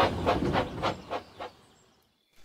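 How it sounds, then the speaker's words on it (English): A steam engine pulling a goods train, with about five rhythmic chuffing puffs that fade away and leave near silence. "And Neville puffed proudly on with his goods train."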